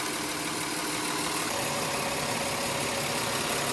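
A car engine idles steadily on a vehicle with a bad battery, a close, constant mechanical hum with no talking.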